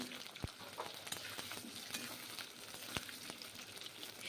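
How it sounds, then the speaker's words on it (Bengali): Potatoes frying in hot mustard oil in a wok, a soft continuous crackle and hiss with a couple of sharp knocks from a utensil against the pan. "এখন আলুগুলো প্রথমে ভেজে নেব।"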